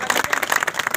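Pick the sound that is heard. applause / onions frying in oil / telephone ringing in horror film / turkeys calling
applause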